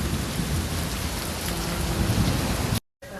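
Heavy rain pours down steadily and loudly with rolling thunder underneath, a dense continuous roar that cuts to silence briefly near the end before resuming.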